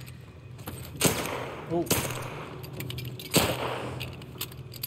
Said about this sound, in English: Tess, who are you shooting, bro?